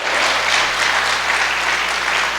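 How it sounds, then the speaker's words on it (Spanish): A church congregation claps loudly and continuously, a thick uniform wash of applause sustained from start to finish with no pauses. "Que alguien le dé un aplauso al Señor."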